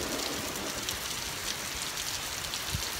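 Heavy rain pours down in a sudden downpour on a hot day, a dense, continuous hiss of drops hitting surfaces that stays steady and loud throughout, with no voices.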